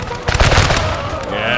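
Volleys of musket fire from Civil War infantry at Antietam's Burnside Bridge in Napoleon Total War, a dense crackle of overlapping shots filling the mix with constant battle noise and faint voices beneath.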